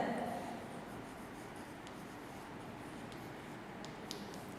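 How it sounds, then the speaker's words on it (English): Pen or pencil writing notes by hand on paper, a steady soft scratching and rubbing that runs throughout at low level, close by, with no talk over it. "I am going to write notes."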